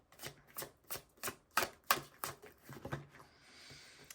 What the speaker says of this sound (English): So let's pull you guys some more cards.